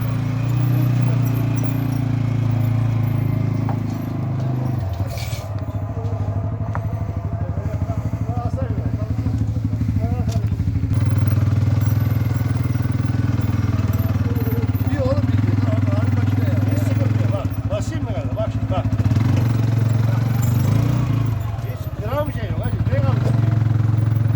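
An ATV engine pulls hard while towing a heavy trailer, a continuous loud motor drone with some rattling and clatter, as people talk over it.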